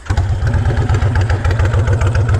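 A Fury motorcycle engine warms up at idle outdoors, a loud, close, steady low rumble with a fast even pulse running through the whole stretch.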